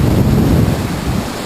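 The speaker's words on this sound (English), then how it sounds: "We are here at the Lattefoss. That's a huge waterfall." Låtefoss waterfall in Norway roars as a dense, steady wash of rushing water, loud and close, with wind buffeting the microphone throughout and no voices.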